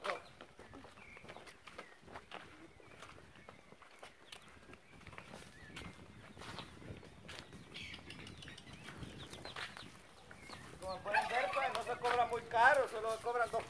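Chickens cluck on a ranch where a horse is being ridden, mixed under steady talking and growing louder and busier toward the end.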